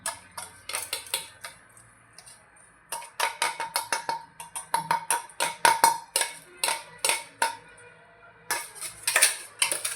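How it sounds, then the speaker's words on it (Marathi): Karale (niger seed) chutney scooped from a pot into a bowl with a spoon, giving a long run of quick, close metallic clinks and scrapes in uneven bursts, with short pauses between them and no talking. "आता एका भांड्यामध्ये याला काढून घेऊ."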